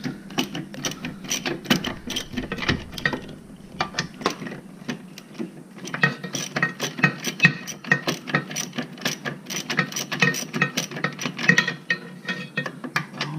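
A ratchet wrench works loose a bolt holding the fuel tank of a Jeep Wrangler TJ during a fuel pump swap. Rapid, close metallic clicking comes in bursts, with a short lull partway before the ratcheting picks up again.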